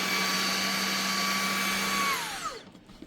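A Eureka React Sense cordless vacuum cleaner runs with a loud, steady motor whine and airflow hiss, then winds down in pitch and cuts off near the end.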